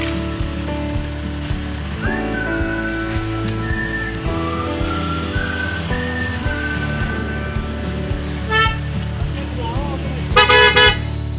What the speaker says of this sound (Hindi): ट्रैफिक चारों तरफ है।